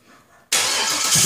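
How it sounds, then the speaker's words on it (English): An LQ4 V8 engine cold-starts after half a second of quiet, catching abruptly into a loud, steady, close rumble that holds without pause. "We're gonna try a cold start."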